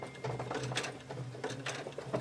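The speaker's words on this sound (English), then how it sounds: "I have plastic teeth, so I'm going to go ahead and just sew across them." A sewing machine stitching across plastic zipper teeth, with a soft, rapid rhythmic whirring and repeated small clacks as the needle passes over the teeth, running close and fairly quiet.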